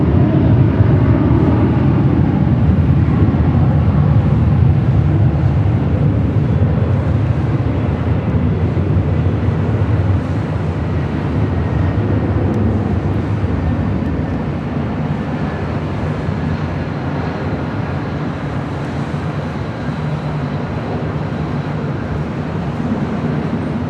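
A Cargolux Boeing 747-8 at LAX makes a loud, broad jet engine roar that holds steady for the full stretch, fading gradually over the second half.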